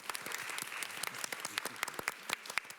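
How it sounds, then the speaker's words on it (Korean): A studio audience at a K-pop industry panel gives a short burst of dense, lively applause, steady throughout with a few sharper claps standing out and faint voices underneath. "일단 축하의 박수 한번 드릴게요."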